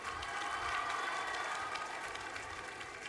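An audience at Agni College of Technology applauds to welcome Dr. APJ Abdul Kalam, a continuous, even spread of many hands clapping in a hall, heard somewhat distant and soft.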